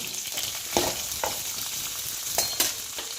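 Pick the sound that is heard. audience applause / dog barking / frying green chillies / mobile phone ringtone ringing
frying green chillies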